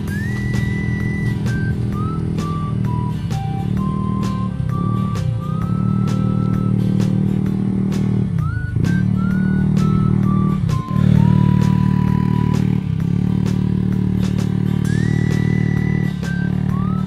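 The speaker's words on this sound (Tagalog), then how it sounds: "Yan, nagkakaandaran na yung motor," Steady motorcycle engine drone runs throughout, a motor idling and revving with a high whining tone stepping up and down over it, close and continuous.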